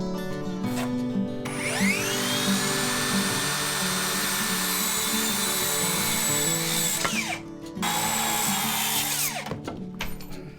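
A power saw whines loudly through a board of red-heartwood Japanese cedar (sugi) fascia in two close cutting passes, the first longer, each with a sharp start and wind-down.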